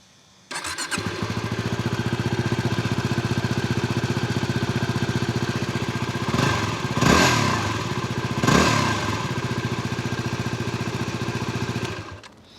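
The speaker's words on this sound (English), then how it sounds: "I'll start it up." A Yamaha WR250R single-cylinder dual-sport motorcycle engine, fitted with a sump guard, cranks and starts, then settles into a loud, steady idle with a couple of brief revs, close to the microphone.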